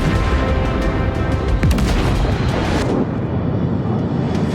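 A 16-inch battleship gun fires aboard USS Iowa on a 660-pound black powder charge, producing a loud, sustained roaring rumble of blast and aftermath that fills the whole stretch with dense noise and no talk.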